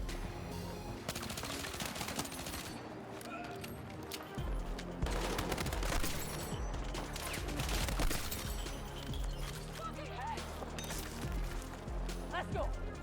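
Rapid tap-fired gunshots in Battlefield 6, short bursts repeating throughout amid busy game noise, with someone talking over them.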